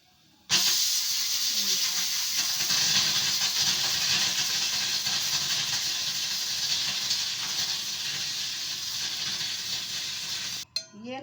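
A pressure cooker, cooking moong and masoor dal on a home stove, releases a loud, steady hiss of steam that starts abruptly and holds for about ten seconds before cutting off, with faint kitchen sounds around it.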